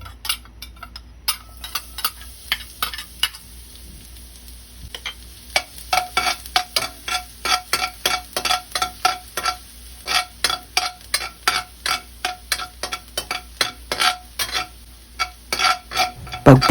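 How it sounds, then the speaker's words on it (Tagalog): Garlic fries in hot oil in a pan with a low, steady sizzle, overlaid with a long run of regular, crisp spatula taps and scrapes that grow denser toward the end, with no voices. "Antayin uminit ang mantika bago natin ihulog ang bawang"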